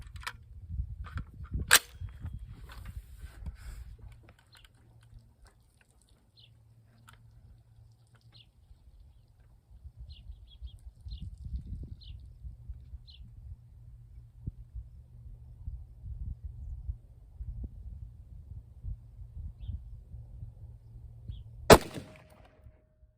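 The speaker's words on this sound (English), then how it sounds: "I'm gonna shoot one more just to see." Rifle shots ring out at an outdoor range during an AR-15 versus Weatherby Vanguard accuracy test: two sharp, loud reports about twenty seconds apart, with quiet wind and rustling between them.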